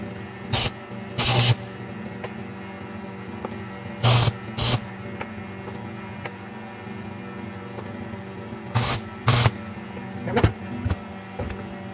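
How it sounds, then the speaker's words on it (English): Chain steering wheel parts for a lawn mower are welded while hanging from a vise, with short, loud crackling hisses of tack welds in paired bursts over a steady electrical hum. "I can hang it from the vise and weld it."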